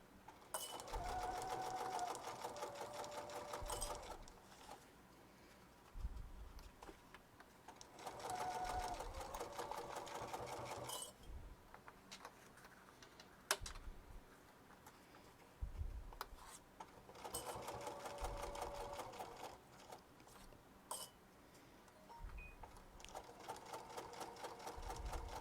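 Sewing machine stitching a Sheera purse through several fabric layers, running in repeated bursts of steady whirring a few seconds long with quiet pauses and small clicks between them.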